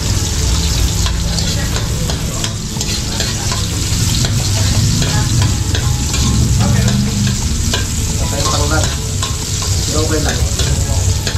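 Garlic sizzling loudly as it is stir-fried in a pan, with a dense continuous fry and clattering stirring strokes; a voice briefly speaks.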